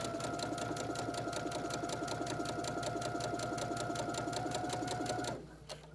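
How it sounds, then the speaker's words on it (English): A sewing machine stitches the casing of a lined drawstring bag, giving a fast, even, close mechanical rattle of needle strokes that runs steadily for about five seconds and then stops abruptly, leaving faint room sound. "reverse, and stitch all the way down to the seam allowance for the exterior part of the bag"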